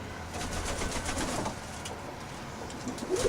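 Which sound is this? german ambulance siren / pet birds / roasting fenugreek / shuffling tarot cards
pet birds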